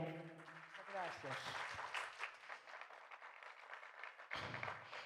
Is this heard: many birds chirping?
no